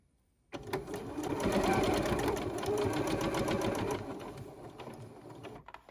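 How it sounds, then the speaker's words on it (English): A sewing machine runs steadily for several seconds, stitching pleats into the sides of a fabric face mask, its rapid needle clatter loud and close, starting abruptly and tapering near the end. "you want to sew these pleats in, just like so, on the sides"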